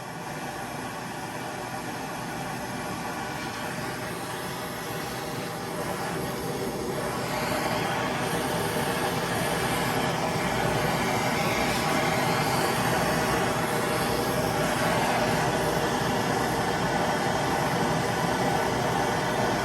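A gas torch roaring steadily as it heats a copper valve for sweating onto copper tubing, a continuous close hiss-roar that swells slightly louder partway through, with no speech.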